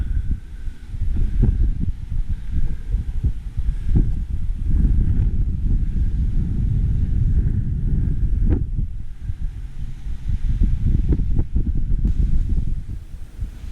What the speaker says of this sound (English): It is very windy up here though.